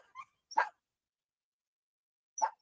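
Dogs at a home give a few short, sharp barks, one yip and then two quick barks, followed by a pause and a single last bark, all faint and somewhat distant.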